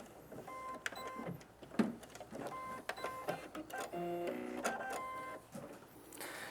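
Sewing machine stitches a Y-seam in short bursts of close mechanical whirring and rattling, with brief pauses and small clicks between runs, fairly quiet.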